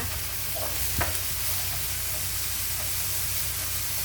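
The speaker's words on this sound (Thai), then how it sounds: "ใส่กระทะใส่หมูลงไป" Pork stir-frying in a hot pan for gluten-free pad thai, a steady loud sizzle with a few scraping stirs and clinks of a spatula, close up and continuous.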